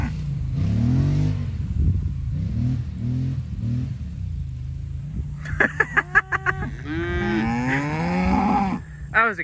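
Cows moo in a series of close, low calls outdoors, followed by a revving ATV engine and sharp rattling bursts near the end.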